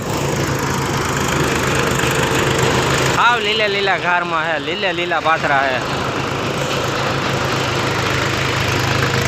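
A groundnut thresher runs with a steady mechanical rumble throughout, while a person sings loudly over it for a few seconds in the middle.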